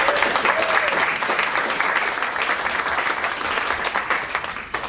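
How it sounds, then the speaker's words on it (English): An audience at a future-of-work panel gives a round of applause for a Google panelist, a dense, loud, sustained clapping that carries evenly for several seconds. "Please give him a round of applause."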